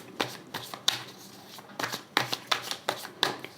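Tarot cards shuffled and drawn by hand during a November reading: a steady run of close, crisp riffling and slapping bursts with no talk over them.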